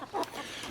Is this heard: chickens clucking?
yes